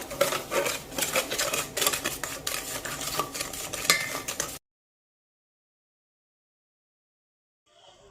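A spoon stirs sauce in a pot while sugar and seasonings are added, a steady scraping and clinking for about four and a half seconds, close and fairly loud, before cutting to near silence with a faint return at the end.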